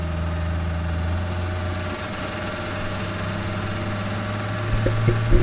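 A pulling tractor engine runs hooked to a dyno, a steady low idling drone with a firm hum and vibration, rising slightly in roughness near the end.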